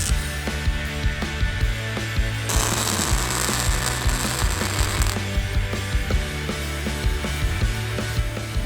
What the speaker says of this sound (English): just push this up against the pin and kind of delicately hold it there while I give it a little tack weld